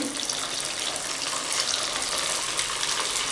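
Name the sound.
leftover rice balls frying in hot oil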